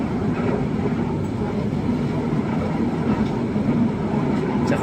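The LRT1 light rail train in Manila runs with a steady loud rumble and rolling track noise, heard from on board, continuous throughout.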